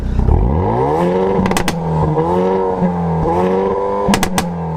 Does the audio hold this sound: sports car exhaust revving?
yes